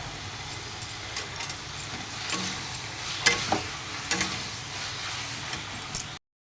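Tomato with masala stir-fried in a pan, a continuous close sizzle with irregular scraping and clinking stir strokes throughout, stopping abruptly near the end.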